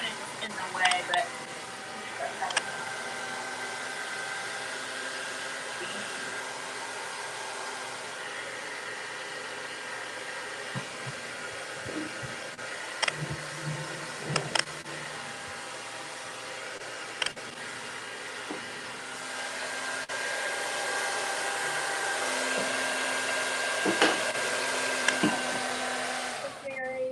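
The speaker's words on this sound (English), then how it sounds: "I'm over the blow dryer." Blow dryer drying DIY paint runs as a steady whirring hum for the whole stretch, close and moderately loud, broken by occasional clicks and handling knocks.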